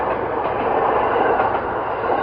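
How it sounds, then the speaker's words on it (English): A short five-car countryside train on the Togane Line rumbles past at close range, a steady loud roar of wheels on rails with no voices. "It's only like 5 train cars, and that's the Togane-sen."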